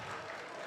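Crowd applause at a basketball tournament final, heard as a brief, steady wash of clapping across the arena, with no clear voices on top.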